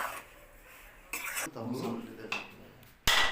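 Dry rice flour being stirred in a kadai with a spatula, giving a few short scraping and rattling bursts of metal against the pan, fairly close, with quiet gaps between strokes.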